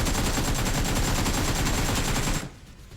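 Rapid automatic gunfire in the battle royale game BGMI rattles out as a dense, loud, evenly spaced burst for over two seconds, then stops abruptly and leaves a faint hiss.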